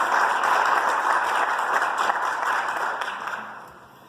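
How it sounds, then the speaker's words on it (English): Sustained applause from an audience at a school board meeting, a dense wash of clapping that holds steady for a few seconds and then gradually fades. "One more round of applause for everyone"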